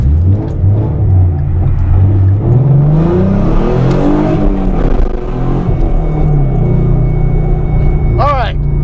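A car with a high-mileage 3.7L V6 engine idles and creeps through heavy traffic, its low engine rumble and rising revs steady throughout, with someone talking over it and a brief squeal near the end.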